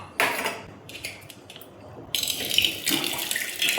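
Kitchen tap running into a sink in an Indian home, water gushing in bursts, first briefly then in a steadier, louder stream after a pause, close by with no voices.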